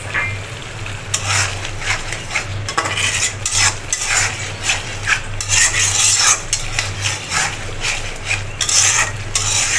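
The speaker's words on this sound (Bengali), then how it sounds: "দেখুন তেলের মধ্যে দিয়ে কিছুক্ষণ কষিয়ে নিয়েছি।" Spices and sliced green chilies fry in oil while a metal spatula stirs and scrapes the pan in repeated quick strokes, close and clattering over a steady low hum.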